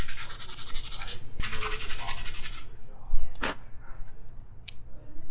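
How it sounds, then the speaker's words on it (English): Rhythmic scratchy rubbing of fine-grit sandpaper on a wooden spoon, in quick strokes, then quieter with a few isolated scrapes and knocks. "grab my finer grit sandpaper and do some finished sanding on the spoon"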